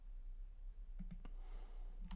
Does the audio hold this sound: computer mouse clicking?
yes